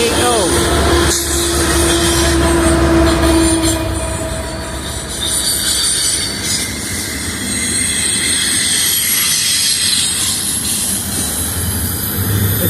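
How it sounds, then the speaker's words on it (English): Freight train rolling past close by, loud and continuous, with metallic wheel squeal and a sustained whine early on, then a broad rumbling roar and rattling cars for the rest. "here comes the choo-choo train"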